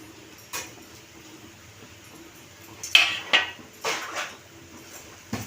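Coriander, cumin, chaat masala and garam masala being stirred in a cooking pan for chicken patties, heard as a few scattered metallic scrapes and clinks of a spoon against the pan over a quiet background.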